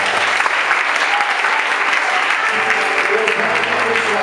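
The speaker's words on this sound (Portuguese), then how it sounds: "Dê uma salva de palmas ao Senhor Jesus" A church congregation claps in warm, sustained applause for the Lord during a service, a dense crowd of hands filling the room while a voice carries over it.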